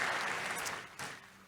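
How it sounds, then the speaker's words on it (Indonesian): A church congregation applauds at a Sunday service, a dense, steady wash of clapping from many hands that fades slightly toward the end. "Kasih tepuk tangan yang meriah untuk Tuhan Yesus."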